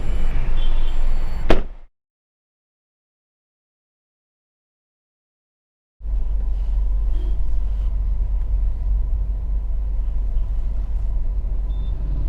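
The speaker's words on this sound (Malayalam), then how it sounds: "Straight away V R driving the new Aircross X." A 2026 Citroën C3 Aircross X is driven, its deep road and engine rumble filling the cabin, then cutting out into several seconds of silence before resuming steadily.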